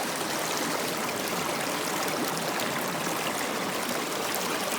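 Water rushes steadily through a gold sluice box as a dense, unbroken wash of splashing flow, loud and close throughout.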